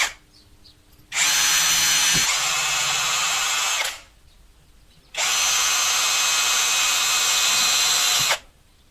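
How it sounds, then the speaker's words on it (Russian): A small electric drill whirs in two steady bursts, each about three seconds long, separated by a brief quiet pause, close and fairly loud. "Или можно при помощи сверлышка насверлить"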